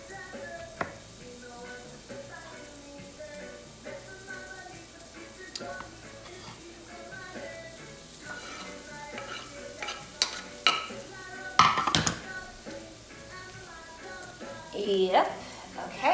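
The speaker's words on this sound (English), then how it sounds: "So now that the mushrooms are nice and chopped up, you can go ahead and add that to the pan" Chopped mushrooms tipped into a frying pan with onions and stirred, a steady sizzle with clinks and scraping that grow louder near the end, a few short words spoken partway through.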